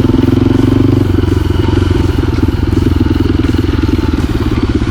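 Enduro motorcycle engine ridden along a jungle trail, loud and close with a steady pulsing drone and some clatter throughout, no voice over it.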